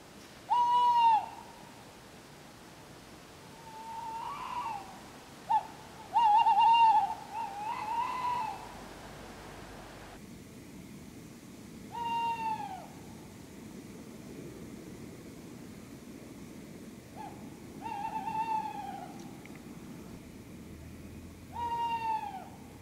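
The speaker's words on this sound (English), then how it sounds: "Just got the sound of a couple of owls calling each other." A couple of owls hoot back and forth at night around a treetop campsite in the forest canopy, each call a short series of soft hoots, some nearer and some farther, against a faint steady hum.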